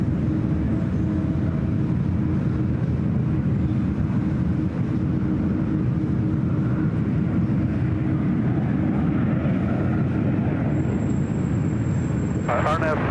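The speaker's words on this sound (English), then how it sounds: "let's go to the United 777-200ER in the Star Alliance livery" A United Boeing 777-200ER airliner in Star Alliance livery arrives on runway 28 left at San Francisco airport, its engines a steady, broad roar held at the same level throughout, with people talking over it.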